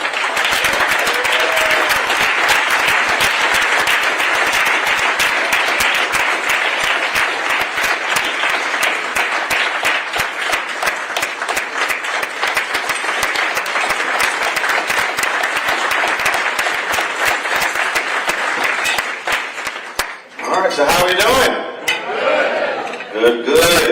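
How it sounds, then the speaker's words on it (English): A large dinner audience gives sustained, loud, dense applause as journalist Roland Martin is welcomed on stage. The clapping runs for about twenty seconds before breaking off into close voices and a few last claps. "I invite you to join me in giving a warm round of applause"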